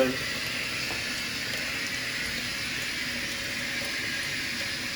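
Tap water running steadily over a hand at a kitchen sink while Jamaican stew beef is being prepared, a continuous close hiss of flowing water lasting throughout with no pauses.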